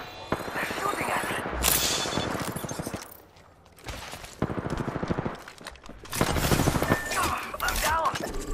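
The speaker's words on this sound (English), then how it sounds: "They're shooting at me." Gunfire in a battle royale video game, with loud, dense bursts of automatic shots coming in waves and a brief lull in the middle, mixed with a player's voice.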